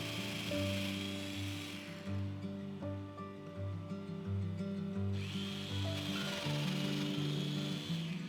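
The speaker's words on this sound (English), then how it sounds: "I finally managed to get my hands on a Festool domino." A Festool Domino joiner cutting into wood for cabinetry joinery, its motor whining in steady tones with two rising plunge bursts of cutting noise, fairly close and without talk.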